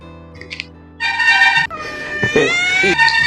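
A kitten meows several times, close and loud, in short high-pitched cries with one drawn-out wavering call in the middle, over a faint background hum.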